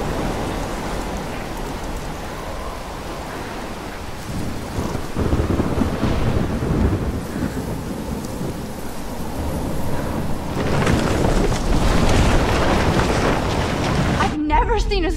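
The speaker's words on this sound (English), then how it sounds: "seen a storm like this in Oregon" A heavy thunderstorm in the video game Life is Strange, set in Oregon, with steady loud rain and deep rolling thunder that swells near the end.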